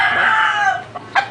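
Rooster crowing, a single loud, close cock-a-doodle-doo call that trails off, followed by two short clucks.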